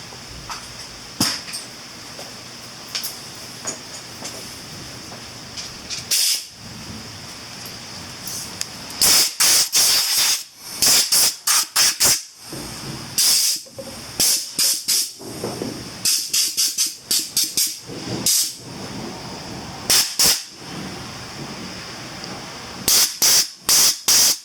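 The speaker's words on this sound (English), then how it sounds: "Get the air compressor out and clear some of that out." Air compressor nozzle blasting grass and debris out of a 49cc Minarelli scooter engine, loud sharp hissing bursts in irregular repeated spurts with short gaps between them.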